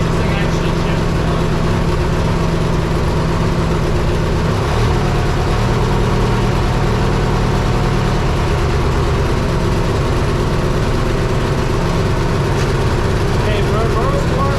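A John Deere 116 lawn tractor engine runs steadily at a low chugging idle, with gear shifts after a transmission replacement, while a person talks over it.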